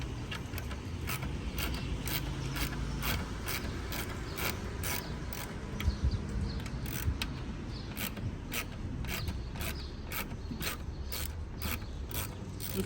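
A ratchet loosens the spark plugs on a Dodge Charger 3.6 V6, its pawl clicking in a steady, rapid run over a constant mechanical hum, close and moderately loud, with no talking.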